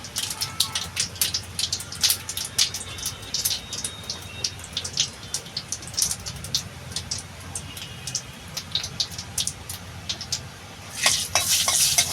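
Whole cumin seeds frying in hot oil in a home kitchen pan, a steady crackling sizzle broken by scraping stirring strokes, close and moderately loud, with a louder sputter near the end.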